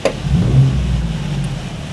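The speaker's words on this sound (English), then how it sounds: "what I'm going to do is just sharply open the throttle now" A car engine on a Haltech Platinum Pro ECU being tuned for acceleration enrichment rises from a low rumble into a short, loud rev as the throttle is sharply opened, then settles into a steady hum.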